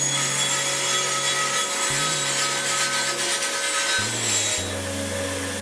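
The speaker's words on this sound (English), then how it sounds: "use an orbital sander to clean up the back face" An orbital sander smooths the back face of a metal sundial hour scale for an armillary sphere, a close, continuous loud whirring hum whose motor pitch shifts in steps as pressure changes.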